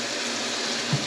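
Tap water runs steadily into a sink as a soft, even rush, left flowing to heat up during a refrigerator door-swing job, with a brief low knock near the end.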